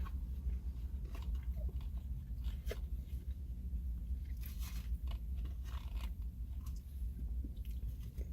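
Someone chews a bite of an Impossible Slider from White Castle with onions and pickles, making close, soft mouth sounds with small crunches and wet clicks over a low steady background hum. There is no talk.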